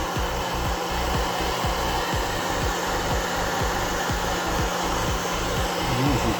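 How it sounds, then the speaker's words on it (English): A hair dryer blows continuously on a scale model's rust paint effect, with a loud, steady whooshing roar and a low motor hum, uninterrupted throughout. "get a hairdryer"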